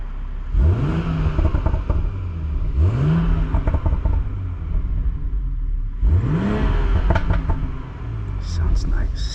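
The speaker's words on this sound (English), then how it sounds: "Give it a little rev." A 2018 BMW X3 M40i with the B58 engine revs three times from idle, each rise climbing sharply and falling back, with pops and crackles from the exhaust at the end; the sound is loud and close, with a voice heard briefly.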